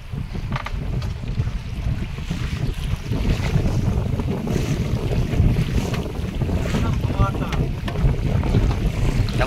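Wind sweeps over a river at high tide during a fishing trip, a continuous roaring gust that buffets the microphone, with water lapping beneath it.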